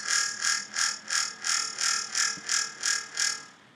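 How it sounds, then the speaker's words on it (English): A synth bass in Ableton is made metallic and phasing by a short delay, giving a high, ringing harmonic tone that pulses in about nine even swells before fading out, with no talking over it. "you hear a really cool metallic-y harmonic high pitchness"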